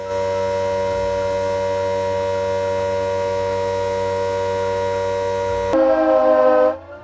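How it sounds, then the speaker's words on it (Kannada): A loud, steady civil defense mock drill siren wails at Ulsoor Lake in Bengaluru, holding one droning pitch for several seconds, then shifting to a higher, harsher tone before cutting off abruptly. "ಮಾಕ್ಡ್ರಿಲ್ ಸೈರನ್ ಸದ್ದು ಮಾಡಿರ್ತಕ್ಕಂಥದ್ದು"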